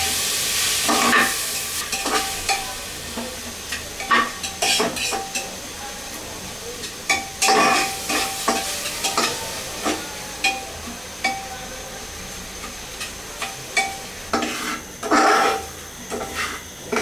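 Soaked basmati rice and onions frying in a pan for Kashmiri pulao, with repeated scraping stirs of a utensil over a soft, steady sizzle, close and fairly quiet, with no voices.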